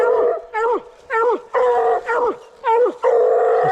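Coon hunting hound at night treeing at a tree: repeated long, loud bawling howls and bays in quick succession, close by, with rising and falling tone between bursts.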